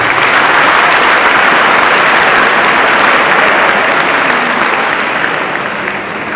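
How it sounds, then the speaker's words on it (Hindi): Loud, sustained applause from a school audience at a morning assembly for Dance Day, a dense, steady wash of many hands clapping that barely eases before the end. "बार अपने लिए जोरदार तालियां भी"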